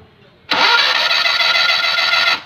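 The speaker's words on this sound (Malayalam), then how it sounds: "ഇപ്പോൾ വണ്ടി സ്റ്റാർട്ട് ചെയ്യുമ്പോൾ ഒരു ഒരു ഫ്രീ റൊട്ടേഷൻ, അതായത് എഞ്ചിൻ ഒരു പിടുത്തമില്ലാതെ കറങ്ങുന്ന പോലുള്ള ഒരു സൗണ്ടാണ് കിട്ടുന്നത്." A Maruti 800 engine with a broken timing belt cranks freely without catching, a loud steady whirring spin that starts abruptly, holds for about two seconds, then stops, close up and with no talk.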